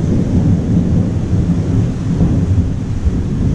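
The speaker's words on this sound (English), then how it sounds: "Sorry, it's thundering here." Thunder rolls as a deep, continuous rumble during a storm, loud and close, with rain-like noise underneath and no talking.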